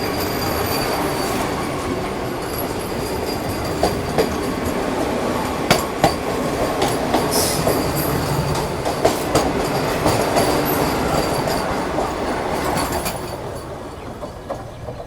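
A train rolls steadily along the rails with a continuous rumble, metallic wheel squeals and occasional clicks, loud and close throughout.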